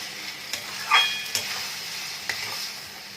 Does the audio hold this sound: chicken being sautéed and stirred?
yes